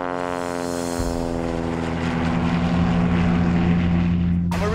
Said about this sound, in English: My partner just took off in the plane.